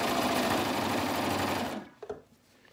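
A sewing machine runs steadily and loudly, top stitching a knit neckband on a shirt with matching thread, then stops abruptly, leaving a few faint handling clicks.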